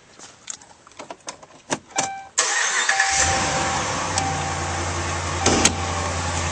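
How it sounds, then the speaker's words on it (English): Keys rattle and there are a few faint clicks before a 2012 Dodge Ram 1500 pickup cranks and starts with a sudden loud burst. It then settles into a steady, close engine idle. "Now we'll start up this vehicle."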